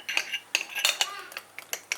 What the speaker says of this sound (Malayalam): അടച്ചിട്ട് കുക്കറിലേക്ക് വെച്ച് കൊടുക്കാം.